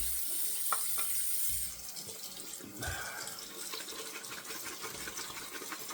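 A tap runs water to wet a head before a shave, a steady hiss and splash that softens after a couple of seconds into a quieter trickle and dripping, fairly faint and close, with no talking over it.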